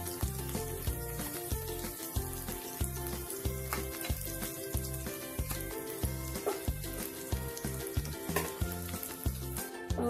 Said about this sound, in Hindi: इनको भी हम अच्छा गोल्डन ब्राउन होने तक फ्राई करेंगे।